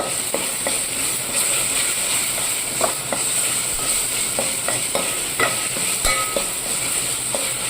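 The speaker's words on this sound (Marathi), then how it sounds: "मी असं चांगल्या प्रकारे हे भाजून घेत आहे ह्याला आपल्याला तेल सुटे तोपर्यंत असं भाजून घ्यायचं आहे" Spice masala roasts in oil in a pan, a continuous loud sizzle with repeated clicks and scrapes from stirring spread throughout.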